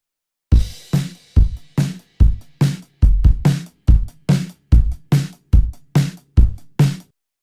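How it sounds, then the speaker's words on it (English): Punchy drum hits in a steady groove, kick and snare with a gritty, saturated edge from blended SGA 1566 tube distortion, loud and close with short gaps between beats. "we can have quite a lot of distortion in the SGA 1566 and then blend it in with the rest of the drums"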